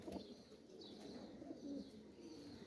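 Soft, low cooing from a male pigeon comes in a few rolling phrases, close and quiet, with a faint wing flutter and light background noise.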